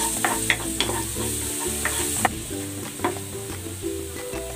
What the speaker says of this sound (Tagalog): Magigisa na ako ng bawang.